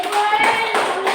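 A room of children in a Christian religious education class in Merauke gives a group applause after the first group's presentation, steady dense clapping filling the whole moment, fairly loud and close, with voices mixed in.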